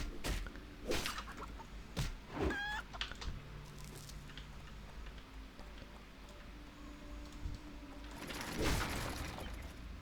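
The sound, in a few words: mechanical chickens clucking in the video game Turtle WoW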